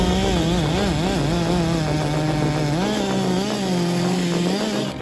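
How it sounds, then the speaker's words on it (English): Steel chainsaw with an engine of 50 to 120 cubic centimeters cutting wood in a woodworking workshop. Its loud, close, continuous motor whine rises and falls in pitch as the load changes while cutting, and no voices are heard. "The steel chainsaw,"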